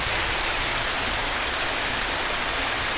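Heavy rain pours down like a waterfall at a house entrance, a loud, dense, steady rush of water filling the whole clip without letup, close by and with no voices.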